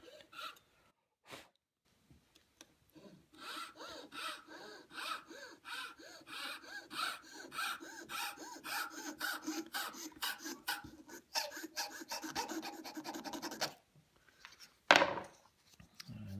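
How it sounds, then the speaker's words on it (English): A jeweler's saw cuts a wooden piece for a Chippendale chimney piece with quick rhythmic rasping strokes that build and speed up, then stop. The sound is close and heard alone. "you can see a jeweler's saw also works nicely"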